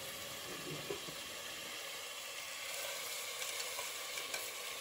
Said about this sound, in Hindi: लहसुन और ग्रीन चिलीज के साथ अच्छी तरह से भून लिया है।